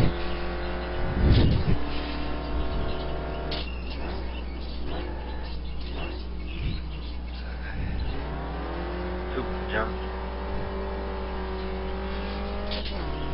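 A sport touring race car at Infineon Raceway pulls away under acceleration, its in-car engine note rising through several gear changes with strong droning harmonics, a loud thump early on and occasional rattles and knocks.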